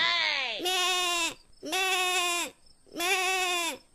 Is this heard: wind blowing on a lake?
no